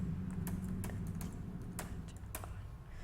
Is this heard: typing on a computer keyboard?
yes